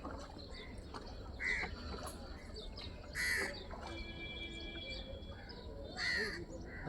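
Crows cawing outdoors: three loud, harsh caws ring out at spaced intervals over a faint background of other bird calls and distant ambience, with no speech.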